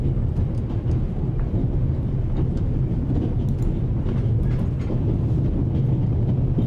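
Train running in The Raven: Legacy of a Master Thief, a steady low rumbling roll with faint rattles and clicks, continuous and fairly close, with no talk over it.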